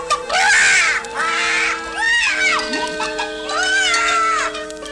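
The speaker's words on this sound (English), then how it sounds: "when he grabbed the magic hen, it started squawking like it had its tail caught in an electric fan" Loud, harsh cartoon squawking from a hen, several drawn-out rising and falling cries in quick bursts, close and agitated.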